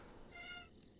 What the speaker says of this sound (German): Kaum fange ich an zu reden, kommt die Katze.